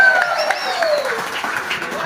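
Applause and cheering from an audience at a scooter club's first anniversary gathering, steady and dense throughout, with a whistle-like tone sweeping across the start.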